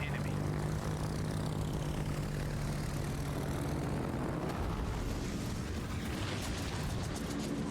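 Propeller aircraft engine drone from a plane in World of Warships, with a Kaga Tier 8 Japanese carrier, steady and fairly loud throughout with a low hum and a rumbling burst toward the end.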